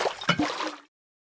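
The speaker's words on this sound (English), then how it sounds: "When you pour out the bottle of water or a potion into a cauldron, it will now make the appropriate sound." Minecraft's splashy pouring sound as a water bottle is emptied into a cauldron: one short wet gurgle that cuts off cleanly into silence.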